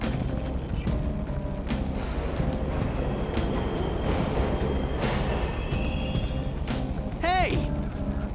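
Subway trains run in the Persona 5 video game, a loud continuous rumbling roar with repeated rhythmic clacks, with a brief rising whine near the end and no talk heard.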